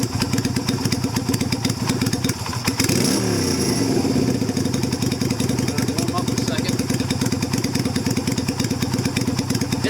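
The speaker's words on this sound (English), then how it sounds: "The whole top of the carb is back to stock, so I'll see how it runs. Sits and idles perfectly." A Yamaha Virago XV250 bobber engine with a restored stock carburetor top idles steadily and close up, its low rhythmic chug continuous throughout, with a brief throttle blip near the three-second mark before settling back to idle outdoors.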